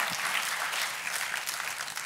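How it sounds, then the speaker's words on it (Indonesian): A church congregation claps for God at a pastor's urging, a continuous, moderately distant wash of many hands with no talking over it. "Tepuk tangannya sekali lagi yang paling meriah buat Tuhan kita"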